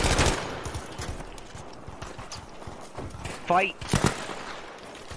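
Gunfire rings out in a multiplayer police shooter game, with sharp bursts of shots at the start and near the end mixed with galloping hoof clatter, while players talk over it.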